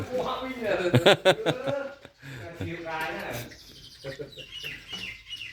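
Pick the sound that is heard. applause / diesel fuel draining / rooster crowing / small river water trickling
rooster crowing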